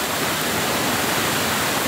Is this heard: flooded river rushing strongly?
yes